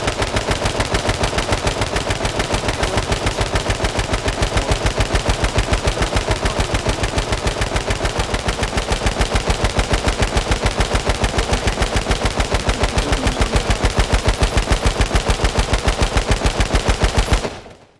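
Automatic gunfire rattles nonstop in the game H1Z1, a loud, rapid, evenly spaced stream of shots lasting about seventeen seconds before cutting off abruptly.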